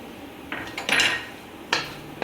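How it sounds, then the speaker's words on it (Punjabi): Semolina being stirred in hot ghee in a pan for moong dal halwa, heard as a few sharp metallic scrapes and clinks of a spoon against the pan, with quiet gaps between them. "ਸੂਜੀ ਨੂੰ ਆਪਾਂ ਥੋੜੀ ਦੇਰ ਵਾਸਤੇ ਪਹਿਲਾਂ ਇੱਕ ਵਾਰੀ ਭੁੰਨ ਲੈਣੇ ਆ"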